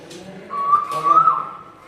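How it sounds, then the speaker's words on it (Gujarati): Two short rising koel calls played from a sound button at Rajkot Zoo, clear and close, with a pause between them; sounds like a human whistling. "કોયલનો એક અવાજ કરીને બતાવીએ તમને"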